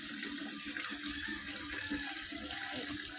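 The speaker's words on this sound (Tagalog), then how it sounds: "nagbibigay tayo tubig na inumin pa sa ating malayong manok" Drinking water running and splashing steadily as it is poured for breeding chickens, a continuous close wash of flowing water with no talk.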